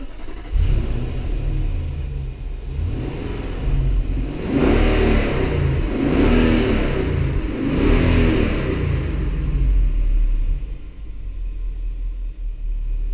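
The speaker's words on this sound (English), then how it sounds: "but it's actually a really nice sounding V8 engine." A 2015 Infiniti QX80's V8 engine fires up by push-button start and is revved several times. Loud, rumbling swells rise and fall over a steady idle, heard up close with no talking.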